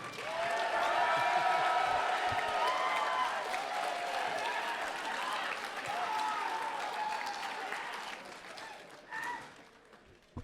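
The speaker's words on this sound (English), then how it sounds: "And one more time, give it up to the amazing supportive crowd." A large esports audience at the CEOtaku 2023 Guilty Gear: Strive Top 8 breaks into sustained clapping and cheering, loud at first, then slowly thinning and fading over about ten seconds, with a brief burst near the end.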